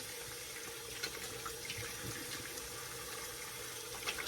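Running tap water for rinsing off shaving lather, a steady hiss of water from the faucet at close range, with a few faint splashes and clinks over it and nobody speaking.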